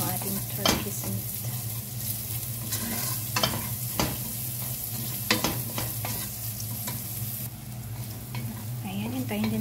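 Thin turkey meat sizzles and fries steadily in a pan while a utensil stirs and scrapes it in repeated sharp strokes, close and alone.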